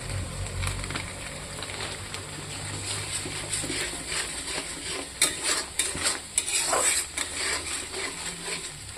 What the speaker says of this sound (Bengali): মশলাতে তেল ছেড়ে দিয়েছে, ভাজা হয়ে গেছে।